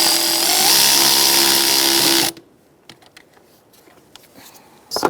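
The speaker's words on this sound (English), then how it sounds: "And now tighten up your hose clamp" A power tool whirs steadily while tightening a hose clamp on a Kia Soul, then cuts off abruptly, leaving light clicks and handling noises in near silence.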